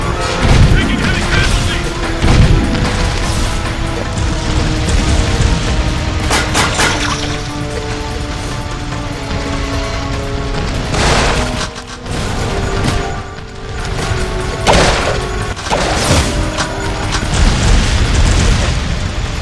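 Heavy gunfire and booming explosions in the Jak II video game, loud and continuous with repeated blasts and bursts layered over game music and voices.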